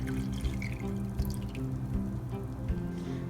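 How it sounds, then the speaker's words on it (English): Tea is poured over boba and crushed ice in a cup above a sink, a close trickling splash with small drips and ice crackles, steady and alone without talk. "Next, very carefully pour in the tea,"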